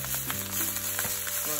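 Jerked pork sizzling and frying in a hot pan for fried rice, a steady close crackle with faint stirring, no talk.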